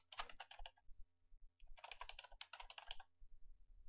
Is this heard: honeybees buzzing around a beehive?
no